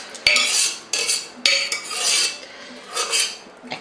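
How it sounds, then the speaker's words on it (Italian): Metal utensil scraping and clinking against a pasta pot as vegetable sauce is stirred in, with several sharp taps followed by steady rubbing strokes, close and fairly loud. "adesso inserisco il sugo nella pentola dove ho cotto la pasta"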